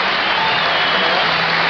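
Basketball arena crowd on its feet applauding and cheering at a Bulls–Lakers game, a dense, loud, steady wash of clapping and roar filling the space.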